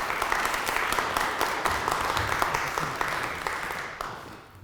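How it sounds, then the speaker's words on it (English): A crowd at a talk in the Carroll County Historic Courthouse claps steadily and warmly for several seconds, dense and even, then fades out toward the end. "can we have a warm round of applause for Judge DeLeonardo?"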